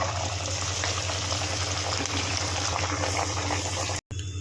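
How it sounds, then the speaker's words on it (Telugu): Puris deep frying in hot oil, a loud, dense, continuous bubbling hiss that stays steady throughout, briefly cutting out near the end. "నూనె వేడెక్కిన తర్వాత ఈ విధంగా తయారైనటువంటి పూరీలని నూనెలో డీప్ ఫ్రై చేసుకోవాలి"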